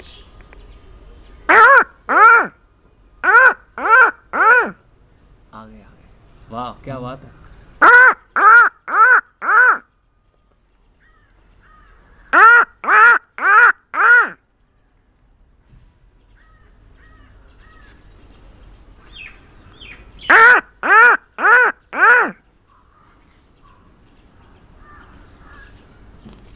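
A man imitates a crow's caw to call crows, giving four bursts of loud, harsh cawing in quick rhythmic sets of three or four calls, separated by quiet gaps with brief soft talk.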